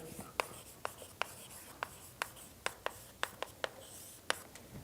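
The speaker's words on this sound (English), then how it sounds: "And let me write here." Chalk or pen taps and strokes on a board during a doctoral lecture on partial differential equations, about a dozen sharp, irregular clicks over faint room hiss with no talking.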